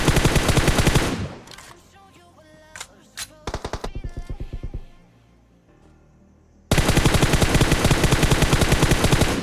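Automatic gunfire from a close-quarters fight in a first-person battle royale mobile game, with rapid rhythmic bursts, short single shots and a long sustained volley at the end, loud and close with no talk.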